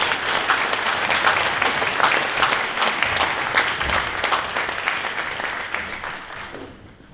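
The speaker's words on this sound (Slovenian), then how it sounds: "En aplavz." An audience applauds at a ceremonial session in Slovenia, dense rhythmic clapping holding steady and loud before tapering off toward the end.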